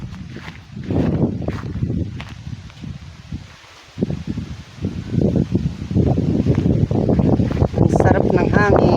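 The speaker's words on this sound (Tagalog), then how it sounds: "ang lakas ng hangin" Strong wind gusting outdoors near banana leaves and palm-thatch huts, roaring and buffeting the microphone in surges with a brief lull, leaves rustling and a voice talking over it.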